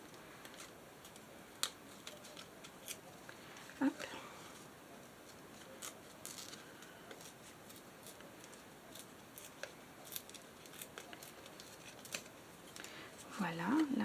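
Scissors snipping paper while a handmade bookmark is cut, small sparse clicks and snips, faint and close, heard between spells of quiet French talk.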